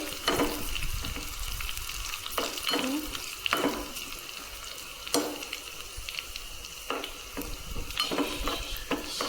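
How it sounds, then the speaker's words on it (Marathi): Steady crackling sizzle of coarsely crushed garlic frying in hot oil until red, with occasional stirring clatters and spoon scrapes against the pan. "आणि थोडा लसूण घालू थोडासा मोठाड कुटून घेतलेला आहे लसूण लाल करून लाल होईपर्यंत"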